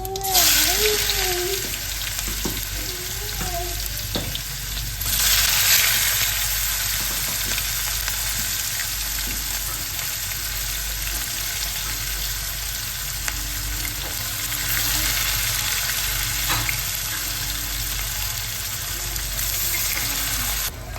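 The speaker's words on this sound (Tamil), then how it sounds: "வெங்காயம் போட்டுக்கலாம்." Onions frying in a pan for soya beans chukka, a steady close sizzle that surges now and then, with faint background sounds and no talk.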